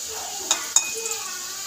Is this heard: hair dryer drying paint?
no